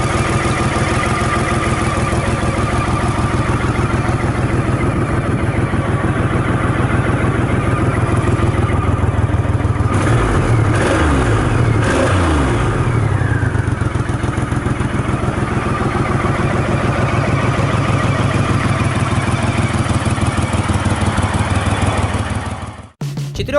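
Four-cylinder Kawasaki ZL-1000 Eliminator power cruiser motorcycle engine idling with a steady low rumble, then a burst of revs in the middle before settling back, loud and close, with no talk.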